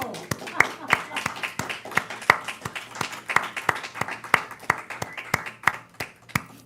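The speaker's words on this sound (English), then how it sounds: "should we give Nellie a round of applause?" A small audience claps for a performer named Nellie, the claps coming as distinct, fairly close, steady strikes a few times each second with voices underneath.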